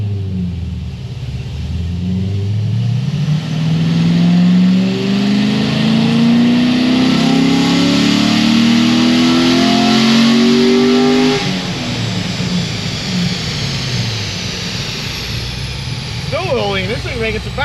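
A Corvette C6 ZR1 engine revs loud and close, its deep rumble climbing steadily in pitch through a long pull before dropping off, then a short rev at the end.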